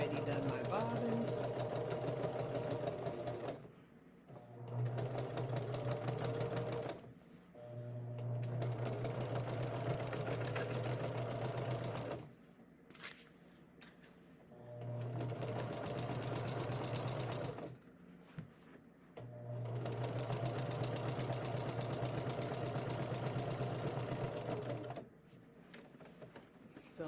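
A domestic sewing machine quilting runs in several long steady bursts with short pauses between them, a close, even mechanical whir; a voice talks over parts of it.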